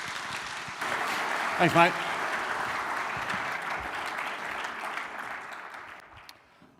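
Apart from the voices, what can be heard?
church audience applause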